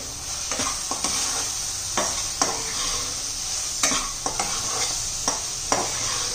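Onion-garlic masala and turmeric frying in oil in a pan for chicken masala, a constant loud sizzle broken by irregular scrapes and knocks of a stirring spoon, close up.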